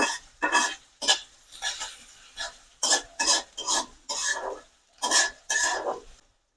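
Onion and garlic fry together in a pan toward light brown, heard as a series of short scraping stirs with soft sizzle between, close and fairly quiet, no talk.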